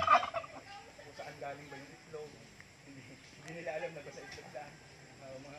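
A white turkey gobbles in quick warbling bursts at the start and again later, nearby, amid other farmyard sounds.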